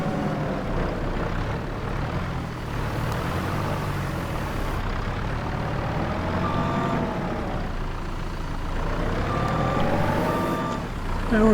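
Reversing beeps from a truck in the Farming Simulator 25 farming game, a steady repeating electronic tone over a constant engine and machinery drone, with no talking.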